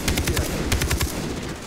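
Rapid bursts of automatic gunfire in the video game Far Cry, loud and close, with a steady rattling rhythm and no talking.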